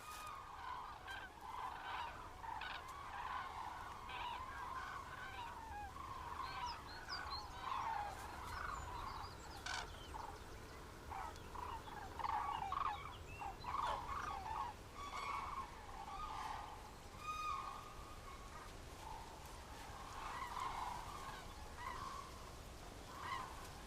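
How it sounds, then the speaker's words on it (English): A flock of cranes in sustained flight over a Mediterranean forest in winter, giving repeated honking, trumpeting calls that overlap and carry steadily for the whole stretch, with no talk over them. "Squadrons of cranes ply the skies in vigorous and sustained flight, constantly trumpeting."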